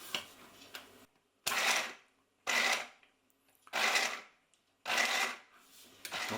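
A food processor blending fruit into a thick puree for a no-sugar fruit loaf runs in five loud, separate bursts of about a second each, with short silent gaps between them.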